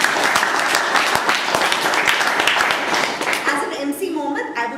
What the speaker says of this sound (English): So a huge round of applause from him.